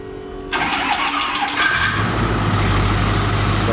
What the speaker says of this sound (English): about to do a cold start on this truck right here.